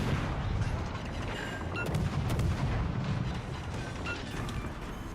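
Warship main guns booming in World of Warships: Legends, several heavy blasts with rumbling low echoes spread across a few seconds, layered over continuous battle noise at moderate volume.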